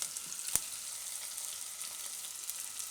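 Carrots frying in a pasta cooker, a continuous soft sizzle of hot oil with one sharp click of a utensil early on, close and even, no voices.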